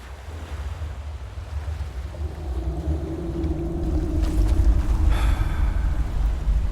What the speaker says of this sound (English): You hear that? Waves.